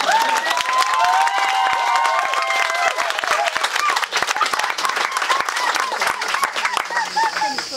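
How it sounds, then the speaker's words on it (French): Guests at a wedding ceremony break into loud applause mixed with cheers and whoops, dense clapping from a close crowd lasting several seconds while voices call out over it. "Encore quelques applaudissements s'il vous plaît."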